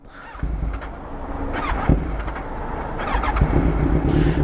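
A Kawasaki Z1000 motorcycle engine cranks and catches, then idles with a rising, rumbling roar, close by, with a brief squeal near the start.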